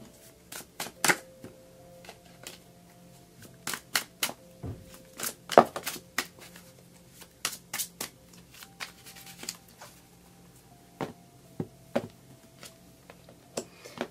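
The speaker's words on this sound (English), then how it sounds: "we're going to pull a card for your environment" Tarot cards shuffled and drawn by hand, a busy run of crisp, close riffling snaps and slaps with short pauses between bursts.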